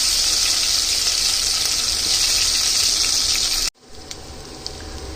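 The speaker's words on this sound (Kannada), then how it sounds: "ಇವಾಗ ಎಣ್ಣೆ ಕಾದಿದೆ, ಸಾಸಿವೆ ಹಾಕೊಳ್ಳೋಣ." Mustard seeds tossed into hot oil for palak soppu saaru hiss and sputter in a loud, dense sizzle that cuts off abruptly, leaving a quieter pan with a few scattered pops.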